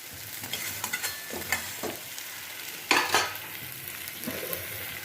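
Prawn curry masala thickened with cashew paste is stirred in a pan, a steady close sizzle broken by irregular scraping strokes of the spoon, with one louder scrape near the middle.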